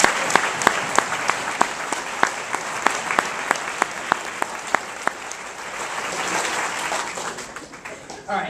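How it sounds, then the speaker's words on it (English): A crowd applauds steadily, many hands clapping at once, with a few sharp louder claps standing out before the applause thins out. "give them all a round of applause"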